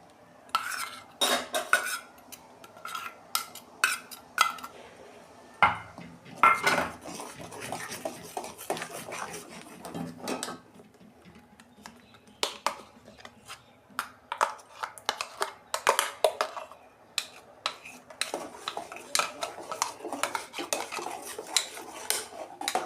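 Mustard paste is stirred in a hot pan while making mango kasundi, with a spoon scraping and clinking against the metal in irregular bursts, sometimes in quick runs and sometimes in sparse taps, close up and with no talking.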